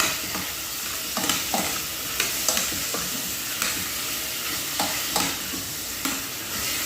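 Chicken, almost a kilo, stirred and mixed in a hot pan, with repeated scraping strokes of a utensil over a continuous loud sizzle, no talk.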